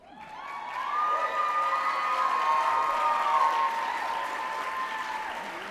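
A crowd at the FAA Hall of Fame award ceremony breaks into loud applause and high cheering and whooping that swell quickly and hold steady, a dense sustained roar with no speech.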